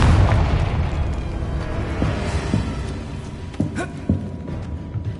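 Confringo fire spell exploding in Hogwarts Legacy: a heavy low boom that decays over a few seconds, followed by several sharper crackling pops and smaller bursts.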